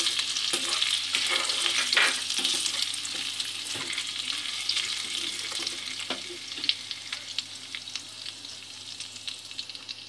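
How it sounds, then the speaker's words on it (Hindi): Cumin seeds and ginger crackle and sizzle in hot ghee in a steady, close frying hiss with scattered pops, and the sound eases slightly toward the end. "देखिए अब घी गरम हो चुका है। अब हम इसके अंदर जीरा डालेंगे।"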